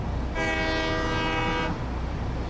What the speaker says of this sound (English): Sound of trains.